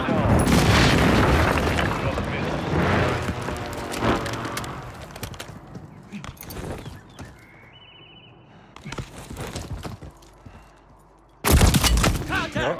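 Close air support strike in the video game Warzone: heavy booming explosions and crackling gunfire rumble loudly at first, fade into scattered shots, then a final loud blast bursts near the end.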